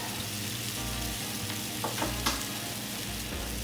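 A sherry shallot cream sauce simmers and reduces in a pan, giving a continuous soft sizzle and bubbling with a few brief stirring clinks near the middle, no voices present.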